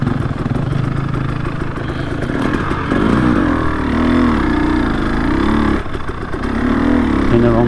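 A motorcycle engine ridden around trees, a steady close drone that rises and falls as the throttle changes, with a voice talking over it.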